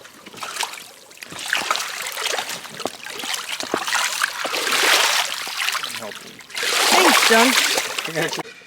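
Water splashes and sloshes repeatedly during play, in uneven bursts that grow louder toward the end, with voices mixed in.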